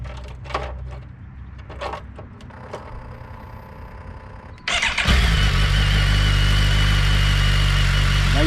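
BMW K1200R motorcycle engine with a repaired cam chain tensioner starting up after a few light clicks, then idling in a loud, steady, smooth close-up rumble with no chain rattle.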